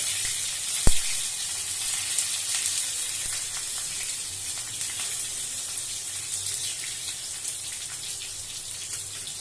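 Cumin seeds and cut green chillies sizzling in oil, a steady, fairly loud crackling hiss with a sharp knock near the start and no talk.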